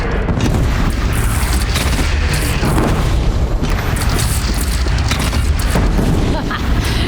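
Cannon fire explosions in Horizon Zero Dawn, a video game, as dense loud booms and rumbling blasts in continuous battle noise, with voices shouting underneath.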